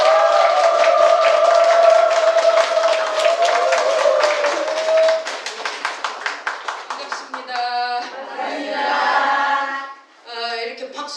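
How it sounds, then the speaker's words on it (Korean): Audience applause in a lecture hall at a Won Buddhist study gathering, loud dense clapping that breaks into rhythmic unison claps, then a voice speaking over it near the end. "큰 박수로 모시겠습니다."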